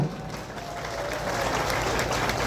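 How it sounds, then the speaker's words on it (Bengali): A crowd at a Buisu festival magazine launch claps together, a dense, even roar of applause that swells slightly louder and holds steady throughout. "সবাইকে বলবো জুড়ে হাততালি দেওয়ার জন্য"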